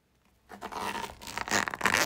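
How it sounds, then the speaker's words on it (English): A zipper pulled in a few quick, rasping strokes after a brief silence, close and fairly loud. "the zipper"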